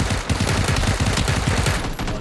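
Rapid gunfire in the battle game PUBG, a dense continuous burst of loud, close shots in a fast regular rhythm lasting the whole moment, with no talk over it.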